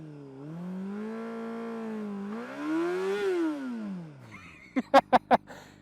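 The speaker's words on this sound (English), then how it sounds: "that's how you do a burnout" A Honda CBR600RR sport bike engine revs for a burnout, its tone climbing, holding, then swelling higher before dropping away, followed by four sharp, evenly spaced pops.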